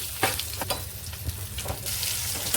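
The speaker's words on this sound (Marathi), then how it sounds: "त्या मिरच्या टाकूया मिरच्या छान ह्या तेलावर परतून घ्यायचं" Steady, crackling sizzle of green chilies frying in hot oil with asafoetida, with a few sharper pops and spits rising out of the continuous hiss.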